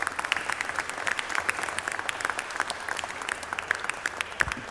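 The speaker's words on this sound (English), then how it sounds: "Let's give them a big round of applause." Applause from the gallery of the Texas House chamber honoring refugee advocates, a continuous rattle of many hands clapping at a distance, steady and fairly soft, with no speech over it.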